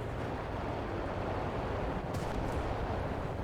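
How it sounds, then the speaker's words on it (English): Artillery strike in the War Thunder video game: a dense, continuous roar of barrage rumble and blasts, loud and sustained throughout with no speech. "It does say in German that I'm wanting an artillery strike on my position."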